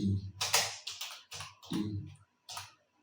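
Computer keys clatter in short bursts of typing with small pauses between them, close by and alone.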